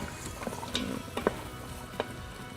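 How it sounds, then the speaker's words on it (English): Vegetables, onions and garlic sautéing in an Instant Pot, a soft sizzle with scattered stirring clicks and scrapes, close and fairly quiet, no talking. "as your vegetables are cooking, we're just gonna add 4 teaspoons of garlic in there"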